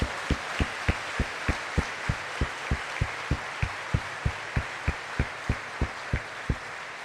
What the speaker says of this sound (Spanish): Vamos a darle un aplauso al Señor Jesús por su amor.